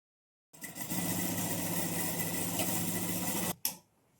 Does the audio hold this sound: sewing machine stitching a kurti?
yes